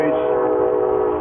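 Train passing outside, a loud sustained horn blast with steady rumble of rail cars beneath, close and continuous, drowning out the room.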